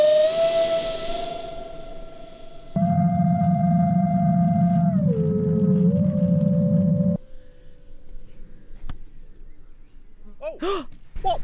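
A giant model ground effect plane throttles up, its motor rising from a steady high whine into a loud roaring hum that holds, dips in pitch, then cuts back, followed by brief voices.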